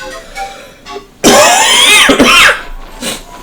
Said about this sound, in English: I had COVID here recently, and I have the cough still